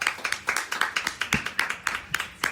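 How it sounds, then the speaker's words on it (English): Applause from a small audience after a Black student finishes speaking at a university forum, a few people clapping in uneven, sparse bursts, fairly close and moderately loud, with no talk over it. "she got some applause for that"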